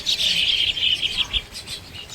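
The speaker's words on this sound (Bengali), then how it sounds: "কত শালিক পাখি, দেখ শালিক পাখি, চিক চিক চিক চিক।" Common myna birds chirp in quick, bright bursts at moderate distance outdoors, with a soft flutter of wings beneath the calls.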